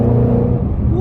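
Ford Mustang 5.0 engine heard up close as a short, loud, rumbling rev with a slight falling-then-rising pitch, no voices over it.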